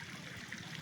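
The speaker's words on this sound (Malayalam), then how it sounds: "ഇവിടെയാണ് ഈ ഉറവയുടെ ഉറവിടം" Water from a mountain spring runs down a rocky wadi near Madha, a soft, steady trickling flow heard close by with no voices over it.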